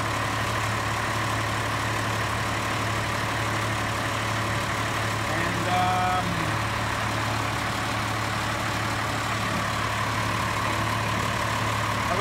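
A straddle carrier's heavy diesel engine runs at a steady, low rumbling idle, loud and constant with a faint brief mechanical clink partway through.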